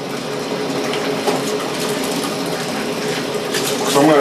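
A DIY off-grid camping clothes washer runs a rinse cycle with warm water, giving a steady mechanical churning and whirring mixed with sloshing water. The sound is close and continuous and swells slightly at the end.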